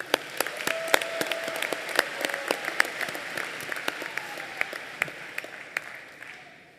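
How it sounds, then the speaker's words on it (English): Audience at a secondary school graduation convocation clapping together, a continuous crowd applause with sharp individual claps standing out, holding steady before thinning out at the end. "Let's all give everyone a round of applause for stepping out of their comfort zones."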